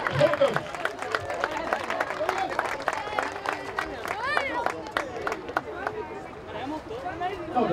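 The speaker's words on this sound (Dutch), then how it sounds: "En van u de rest nog eventjes het applaus, denk ik." A crowd applauds the new Dutch elite men's cycling champion at a podium ceremony in Baarn, with steady clapping running under an announcer's amplified voice and some crowd noise.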